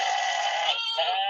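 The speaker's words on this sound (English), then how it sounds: "Is that farm animal sounds? It's goat." Goat bleating sound effect, a loud, close, nasal cry in two quick bursts with a short break between, alone with no talking.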